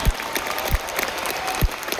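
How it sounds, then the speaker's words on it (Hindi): Dense, continuous applause from an audience fills the whole stretch, with a few low thumps breaking through the clapping. "तो अब एक बार फिर से जोरदार तालियां बजाइए"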